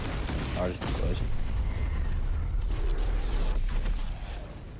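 A large explosion from a punch move in the Roblox game The Strongest Battlegrounds, a dense, sustained burst of booming, crackling game effects filling the whole clip, loud and close with no talking.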